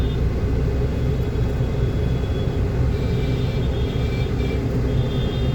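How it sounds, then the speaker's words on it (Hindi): Heavy road traffic crowded during the Raksha Bandhan festival, a continuous loud low rumble of vehicles with no talk and no distinct horns. "ट्रैफिक हो रहा है बहुत ज़्यादा यहाँ पर।"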